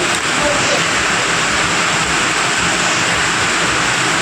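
A mixer grinder blends boiled pumpkin peel chutney with salt, its motor giving a loud, steady, unbroken whir from start to finish with no talking.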